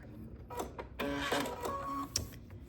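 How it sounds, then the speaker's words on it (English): Sewing machine stitching fabric for a foundation paper-pieced quilt block, heard as a short, quiet, close run of rapid mechanical stitches with a brief pause partway through. "So I'm going to sew a couple stitches past."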